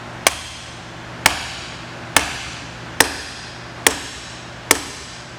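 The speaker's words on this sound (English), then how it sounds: "I'm actually going to take the hammer and apply a small amount of force." A hammer taps a Hi-Lock fastener on metal held in a vise, giving six sharp, evenly spaced metallic strikes about a second apart. Each strike rings briefly and is heard close and alone.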